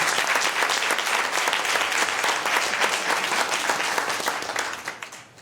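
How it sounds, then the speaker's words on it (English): An audience at a First 5 Sacramento Commission meeting gives a dense, sustained round of clapping that stays steady and loud before fading in the final second. "let's clap it up for each and every last one of us being here today"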